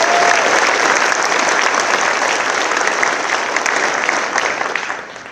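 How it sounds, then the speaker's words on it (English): Sustained audience applause at a university law school hooding ceremony, a dense, steady clapping from a large crowd that carries on evenly and starts to fade at the end. "Let's give us all a round of applause."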